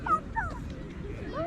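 A dog gives a few short, high yips and barks close by, outdoors during a casual gathering.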